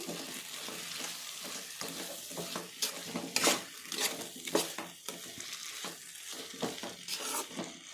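A spoon stirs and mixes salt through mango rice in a pan, giving steady soft scraping and rustling with light sizzling, close and fairly quiet, with no one talking.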